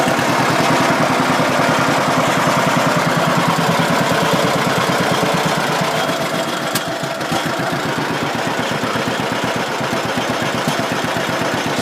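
A John Deere Model B tractor engine idles steadily and close by, a loud, even, low chugging that runs throughout with no talk over it.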